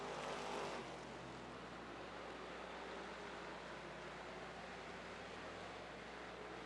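Stock cars race at Rockford Speedway in a distant, steady roar of engines under a wash of crowd and track noise, with a slightly louder surge at the start.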